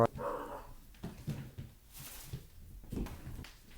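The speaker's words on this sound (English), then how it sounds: "Hold on, my dogs are going a little crazy right now." Several dogs bark and yip in a quick, scattered burst at moderate distance, somewhat faint and muffled, with no talking over them.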